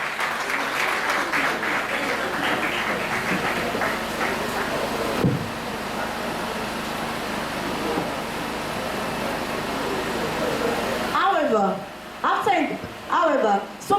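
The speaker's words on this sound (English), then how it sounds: "Please clap for her." Audience clapping at a Lagos State school prefects summit, steady applause for roughly eleven seconds under background hum and voices, then breaking off as a speaker's voice takes over near the end.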